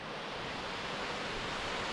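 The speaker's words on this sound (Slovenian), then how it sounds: "Slap, ki teče v sotesko." A waterfall in Albania pours into a river gorge, giving a steady, loud broadband rushing roar with no breaks.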